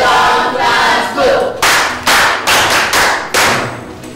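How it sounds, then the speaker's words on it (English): A classroom of pupils claps for a boy who placed first, with bursts of applause swelling and fading several times, loud and close, alone without talk. "Clap for him."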